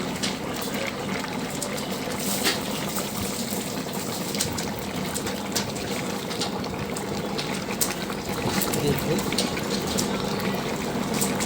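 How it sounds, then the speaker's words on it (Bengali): Meat boiling in a pot while cooking, a steady close bubbling and churning with no clear breaks. "খুব সুন্দর রান্না মাংস সিদ্ধ হচ্ছে"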